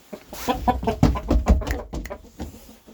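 Chickens cluck and squawk close by in a busy burst of calls, with a rooster among them, fading toward the end.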